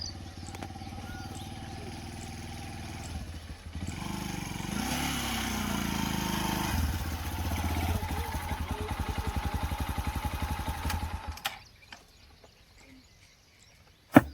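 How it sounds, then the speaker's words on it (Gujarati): A motorcycle engine runs steadily and loudly, its rumble pulsing as it rides along, then cuts out near the end, leaving quiet background noise. "તો મિત્રો આપણે આવીએ બાઈક લઈને."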